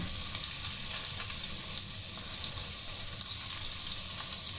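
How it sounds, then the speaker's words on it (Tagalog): Fish frying in hot oil until golden brown, a steady dense sizzle and crackle with faint bubbling, moderately loud and continuous without any voices. "Prinito ko lang yan hanggang mag golden brown."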